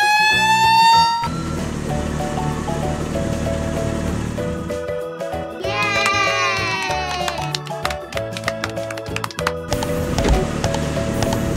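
A red toy fire truck siren wails with rising and falling electronic tones, mixed with beeping toy sounds and music, loud and close.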